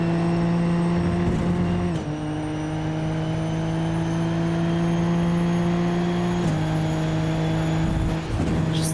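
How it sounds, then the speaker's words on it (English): Race cars at Hockenheim running close together along a straight in each other's slipstream, a loud sustained engine drone with steady pitch that drops briefly at two gear changes, continuous throughout without speech. "these cars spend so long on straights, and therefore spend a lot of time drafting off of one another as well"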